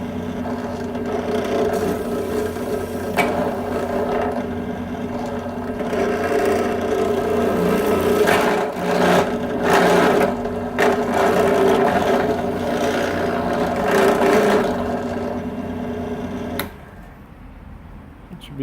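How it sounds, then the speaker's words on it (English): A drill press bores a hole for a cable with a steady, close motor drone and grinding bursts that rise and fall for most of the time, then the sound cuts off near the end as someone talks over it. "Plus I have the drill press, it's just easier to use a drill, I think."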